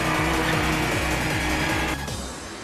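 Car tires squeal loudly during an anime drift race, a sustained screech over a revving engine drone that tapers off near the end.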